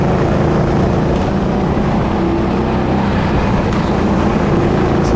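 A go-kart engine drones loud and close on the bottom track at Absolutely Karting Maidenhead, a constant rough roar mixed with wind buffeting, holding nearly level throughout with no voices.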